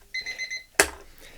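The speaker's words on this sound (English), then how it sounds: "Oh, the egg timer." An egg timer rings with a quick series of bright, repeated metallic chimes, close and clear, followed by a single louder clunk as it stops.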